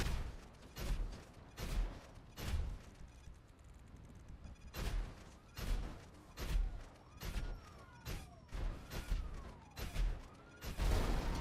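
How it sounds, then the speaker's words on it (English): Homing missiles strike a Rune Zhaba tank in GTA 5 Online, a rapid series of sharp explosive impacts and thuds, about a dozen hits in irregular succession with whooshing launches between them. "I am going to show you guys with the homing missile"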